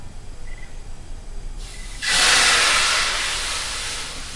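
Pork coming to a boil in a pot for pancit, a loud steady rush of bubbling and hissing that swells in abruptly and holds close and continuous without any talk.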